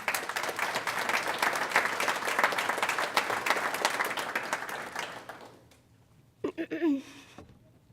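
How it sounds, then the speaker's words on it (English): Graduation crowd applause at an academy ceremony, a dense roar of clapping that holds for about five seconds, then tapers off into near quiet before a voice briefly speaks. "Give yourself a round of applause."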